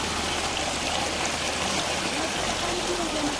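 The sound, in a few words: cold water flowing in a mountain stream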